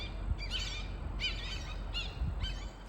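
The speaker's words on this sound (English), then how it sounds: "Oh, listen to those birds." Birds call at the Fried Green Tomatoes film location, an old rustic cottage, with four short bursts of chirping spaced about a second apart. They sound fairly near and faint over a low background rumble, and nobody speaks.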